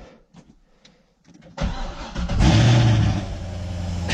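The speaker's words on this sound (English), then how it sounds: "Start the car. Wake up the neighborhood." A car engine cranks and catches after a quiet moment, roaring up loudly close by and then settling into a steady idle, with no talking.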